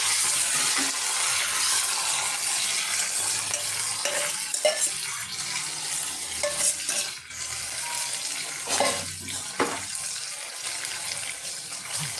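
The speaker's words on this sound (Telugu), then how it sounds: "ఉల్లిపాయ ముక్కలు పచ్చిమిర్చి ముక్కలు ఇవి కూడా కొంచెం సేపు అలా వేయించుకోవాలి" Onion and green chilli pieces frying in a pan, a soft continuous sizzle with occasional stirring scrapes and clinks, no voices.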